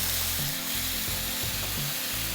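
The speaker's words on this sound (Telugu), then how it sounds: "ఉల్లిపాయ టమాటా ఈ రెండింటిని నేను పేస్ట్ చేసి రెడీగా పెట్టుకున్నాను. సో ఈ దాన్ని నూనెలో వేసుకోండి" Onion and tomato paste hitting hot oil in a pan, a dense, loud, continuous sizzle with a few low thuds from the vessel, close up.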